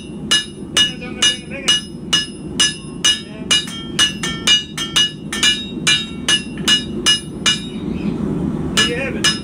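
A hammer forges a Criollo knife, ringing in a steady series of sharp metallic strikes on the anvil, about two blows per second, close and loud over a low background hum.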